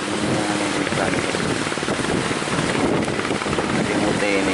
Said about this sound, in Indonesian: Laut anginnya kencang ini guys.